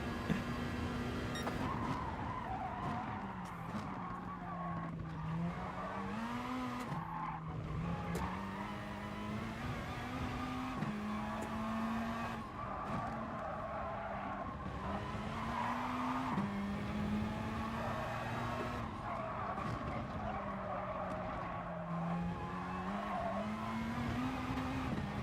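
A Peugeot RCZ race car in GT Sport drones steadily at high revs for the whole stretch, its engine pitch rising and falling through gear changes, with brief tire squeal and skidding on track.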